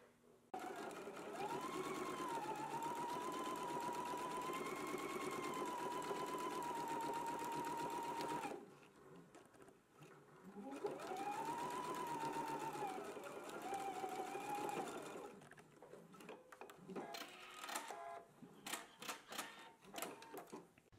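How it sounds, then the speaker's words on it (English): Straight stitching on knit fabric, sewing shoulder seams on a sewing machine: two long steady runs of close, busy motor whirring with a brief pause between, followed by a stretch of short stops, clicks and taps. "I've just finished stitching my shoulder seams together"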